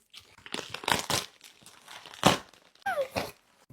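Plastic or paper wrapping on a PR gift package crinkles and tears in irregular close bursts as it is opened by hand, with short pauses between handfuls.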